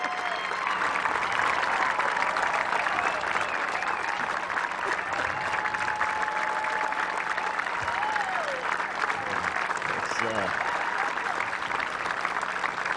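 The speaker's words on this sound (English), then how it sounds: "You have no idea what that applause did for me." Crowd applause at an event marking the Space Shuttle Enterprise's arrival at the Intrepid Museum, sustained and even clapping from a large gathering that runs unbroken throughout, with faint background tones and some murmuring beneath.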